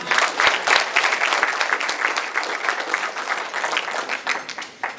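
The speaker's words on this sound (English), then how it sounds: "let's give her a round of applause" Audience applause at a sports hall of fame banquet: dense, steady clapping from a crowd that keeps going at a fairly even level for the whole stretch.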